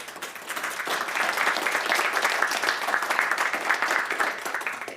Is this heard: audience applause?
yes